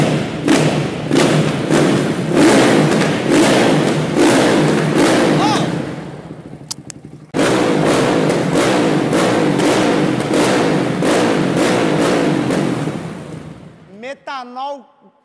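Honda CB 300 motorcycle with a carbureted 320cc engine running on methanol, revving hard in rapid repeated bursts close to the microphone, cutting off briefly and then revving again before dropping away, with voices nearby.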